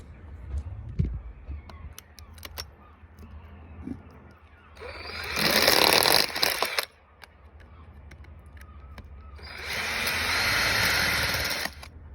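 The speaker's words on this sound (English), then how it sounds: "that is how you screw into a rock using a crocodile plug" Power drill driving a screw into rock through a crocodile plug, two loud whirring bursts of a few seconds each separated by quieter handling noises close up.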